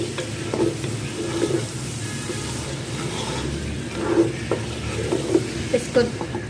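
Spices frying and being mixed for beef nalli biryani, with a steady close sizzle and repeated spoon scraping and stirring in the pan, fairly loud throughout with no talking.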